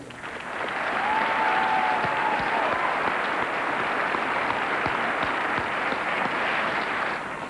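Audience at a 1996 NASCAR Winston Cup Series awards ceremony breaks into loud, sustained applause that swells quickly and holds steady for several seconds before easing slightly.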